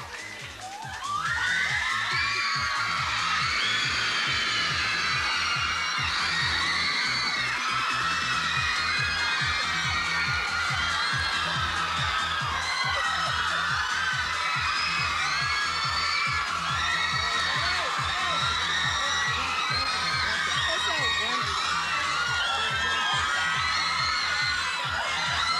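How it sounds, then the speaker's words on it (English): A large crowd of fans at a 2002 Much On Demand appearance by Nick Carter screams and cheers continuously, a loud, dense wall of high-pitched shrieks and whoops that barely lets up. "We're going to have to talk over the screams."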